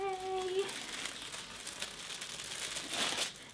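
Gift wrapping paper torn off a Chanel bag box, a crinkly rustling rip that runs steadily for a few seconds up close, with a brief voice at the start.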